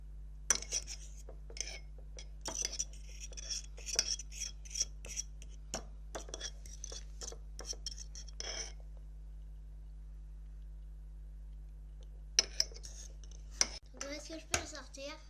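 Homemade slime being stirred in a bowl, with repeated clinking and scraping of a utensil against the bowl in short bursts, then a pause before more stirring noises and a voice near the end.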